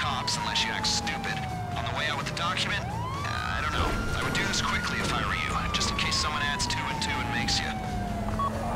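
A police car siren in the video game GTA V wails continuously with long rising and falling sweeps, loud and close, while players talk over it and other game sounds.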